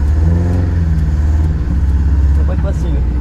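An old car that sat unused for 29 years drives off, its engine rumbling loudly and close with a slight rev, while people talk over it.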